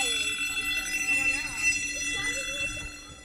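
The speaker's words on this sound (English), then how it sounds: "And all of a sudden, the alarm started." Bank alarm ringing steadily as a high, continuous electronic tone with wavering overtones, moderately loud and constant throughout, with people talking underneath.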